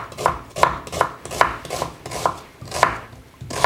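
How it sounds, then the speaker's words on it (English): A knife chops onions on a cutting board while catfish is being prepared, about nine crisp close knocks falling at a steady, even pace. "this is one of my favorite ways of chopping your onions"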